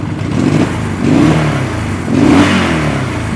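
A Honda CL175 motorcycle engine revs in repeated blips, rising and falling about three times over a steady idle, close and loud with no voices.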